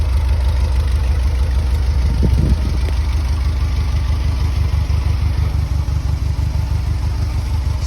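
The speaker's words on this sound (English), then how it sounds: "So here's proof of Adam's skillful driving." Morris LD ambulance engine runs loud and steady as the vehicle is driven into a workshop, a close, rough mid-pitched idle with a rhythmic throb and a brief clatter early on.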